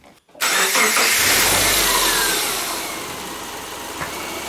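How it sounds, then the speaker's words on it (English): A remanufactured boxer engine in a Subaru Forester cranks and catches with a sudden loud start, briefly revs, then settles into a smooth, quiet idle nearby with no one talking. "I'm gonna go inside the car and start it."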